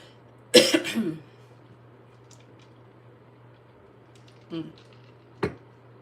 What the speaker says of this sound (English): now I'm about to cough